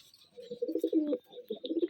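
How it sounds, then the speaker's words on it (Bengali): A pair of Rajshahi giribaz pigeons in an old home loft give repeated throaty coos in short pulsing bursts, near and moderately quiet, with a brief pause midway. "নানার কবুতরের খোপ, এখানে এক জোড়া কবুতর আছে"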